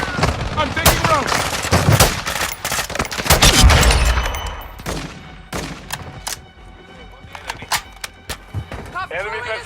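Gunfire in the video game Call of Duty: Modern Warfare II, with dense bursts of rapid shots and single cracks going off near and far over a battle, while radio-style voices talk over it.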